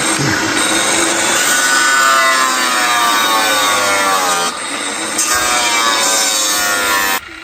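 A wooden chair is being built while a saw cuts through wood in long, loud, continuous strokes, with a short dip midway and a sudden stop near the end.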